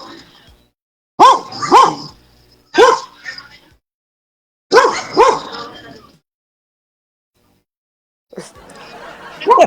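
A goat's loud bleating cries, played as a dog-bark effect in a Filipino radio drama, come in several close bursts of two or three calls each, followed by a noisy rustling stretch.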